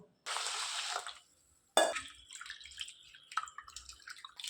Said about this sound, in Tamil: இது மாதிரி அலசிட்டு இந்த தண்ணியை வடிகட்டிட்டு இந்த அவளை எடுத்துக்குவோம்